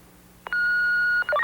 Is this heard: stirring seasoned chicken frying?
no